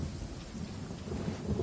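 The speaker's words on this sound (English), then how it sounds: "Thunder and lightning can be quite frightening, but don't worry." Thunderstorm in the video game Genshin Impact: steady heavy rain hisses throughout, with a low rolling rumble of thunder swelling underneath, and no voices.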